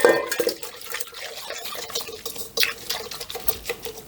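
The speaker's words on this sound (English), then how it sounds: "just give this a wee bit of a whisk" Sugar and yeast being whisked in water in a bowl. The whisk makes quick, uneven clinking and sloshing strokes close by, a steady splashy stirring with small drips.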